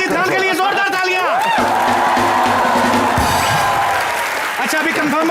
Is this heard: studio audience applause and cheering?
yes